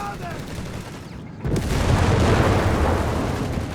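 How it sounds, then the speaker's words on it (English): A grenade blast in the World War II strategy game Company of Heroes 3 hits after a lull, a loud, close boom that rolls into sustained battle noise and gunfire. "Nice grenade throw there."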